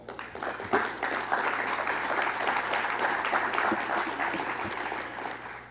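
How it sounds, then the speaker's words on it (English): An audience applauds health IT hall of fame inductees at an induction ceremony, a steady dense roar of many hands held for several seconds over a low hum. "Can I get a round of applause?"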